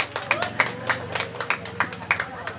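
An audience at a literacy talk event applauds three speakers, a scattered, uneven clapping of a modest crowd with regular hand-claps standing out, with faint background chatter throughout.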